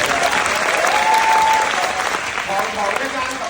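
A theatre audience at the Hong Kong Arts Centre's Shouson Theatre applauds during a stage play's curtain call. Loud, sustained clapping fills the hall, with crowd voices and cheering mixed in throughout.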